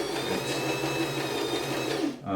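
A Janome (New Home) My Style MS22 sewing machine stitching steadily with a continuous humming motor and rapid needle rattle, close and loud, before stopping abruptly at the end.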